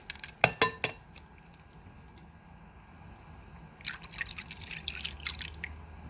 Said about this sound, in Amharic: አንድ ኩባያ ወተትን ጨመርኩ።